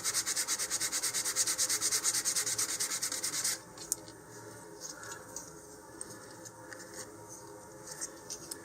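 Sandpaper rubbed back and forth over the surfaces of a model rocket fin, Estes Curvilinear kit, in fast steady strokes for about three and a half seconds, then stopping to quieter handling noises.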